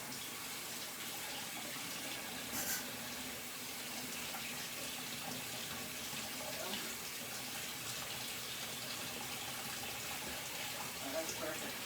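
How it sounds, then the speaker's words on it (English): Warm water runs from a kitchen tap into a sink for bread dough, a steady close hiss and gush held throughout, with a voice faintly present beneath it. "So let me get my water running."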